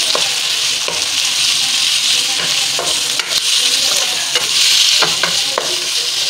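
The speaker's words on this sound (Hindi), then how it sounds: "कीमा डाल देंगे हम, आधा किलो कीमा है, आधा किलो से थोड़ा ऊपर ही। इसे डाल के फ्राई करना है अच्छे से।" Loud, steady sizzling of about half a kilo of minced mutton frying in a pan, with occasional scraping and stirring noises, close up and with no talking.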